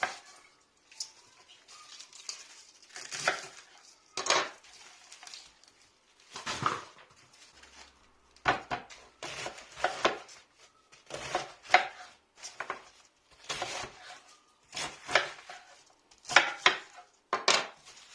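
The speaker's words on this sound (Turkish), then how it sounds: "Şöyle lahanaların hepsini doğradım." Knife chopping cabbage on a cutting board for mixed pickles: irregular bursts of close, crisp chops and thuds, some in quick runs, separated by short pauses.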